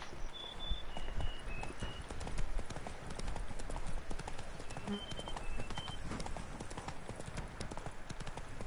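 Hooves of the horse Roach clop at a steady running gallop in The Witcher 3, a continuous rhythmic beat heard at moderate distance under faint game ambience and music.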